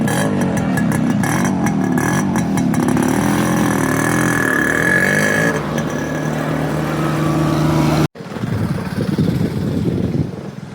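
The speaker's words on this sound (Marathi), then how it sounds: "माईक नाही त्याच्यामुळे बहुतेक गाड्यांचा व्हॉइस येऊ शकतो आपल्या शूटमध्ये" Vehicles on a road near an outdoor shoot, a loud motorcycle-like engine droning and revving close by before cutting off abruptly, then a fainter passing rumble.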